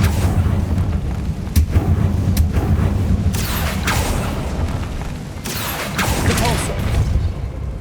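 Explosion spell bursts in Hogwarts Legacy, with heavy booming blasts and debris rumble under continuous game noise, several sharp hits through the stretch, loud and near.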